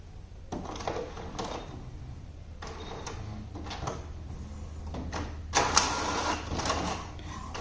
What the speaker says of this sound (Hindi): तो पेपर का इनपुट तो प्रिंटर ने ले लिया है और प्रिंट कैसे आता है ये हम अभी देखेंगे।